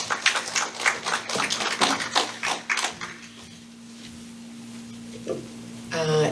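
An audience claps to welcome a speaker at a campaign kickoff rally for a California state senate candidate. The dense applause lasts about three seconds, then fades into a room hum, with a brief voice near the end.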